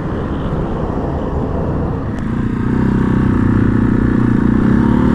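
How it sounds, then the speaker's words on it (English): A Janus Phoenix 250 motorcycle rides along an Indiana road, its steady engine drone and road rumble loud and close, building slightly in intensity partway through with no talking. "I'm riding an Amish-made motorcycle."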